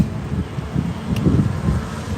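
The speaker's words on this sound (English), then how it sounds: "It's getting windy again." Gusty outdoor wind buffets the microphone with steady low rumbling roar over about two seconds, swelling slightly in the middle, with no talking.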